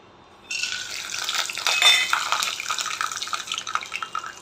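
Flattened rice (poha) rinsed under running water in a metal vessel, a sudden close rush of splashing water with light clinks and sloshing that carries on steadily after the tap opens, with no voices.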